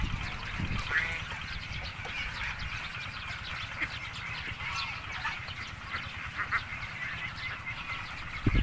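A flock of Muscovy ducks nearby keeps up a continuous chorus of soft hissing calls and low quacks, with scattered rustling throughout.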